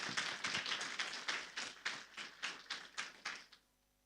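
A congregation at a Sunday church service claps for the choir: about ten crisp, evenly spaced claps in a steady rhythm, close and fairly loud, ending abruptly with no talking.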